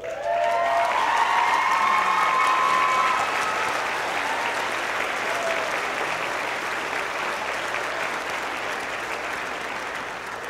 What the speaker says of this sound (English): Would all our London students please stand for a round of applause?